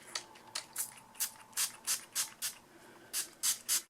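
Texturizing hair spray from a Sephora sample can is sprayed in a series of about a dozen short, sharp hissing bursts, spaced irregularly and heard close and alone.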